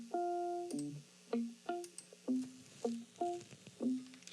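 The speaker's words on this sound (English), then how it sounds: "have you ever heard like someone make something sound like it's in a telephone" Guitar played through a telephone-style EQ effect, a string of plucked, sustaining notes and short phrases in a loose rhythm, close and moderately loud with no talking.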